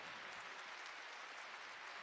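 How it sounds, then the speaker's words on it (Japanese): A hall crowd at the Nagoya Grampus new-squad presentation event claps steadily for the players, a dense, even wash of applause with no voices. "今一度ジョー選手、ランゲラック選手に大きな拍手を送りください。"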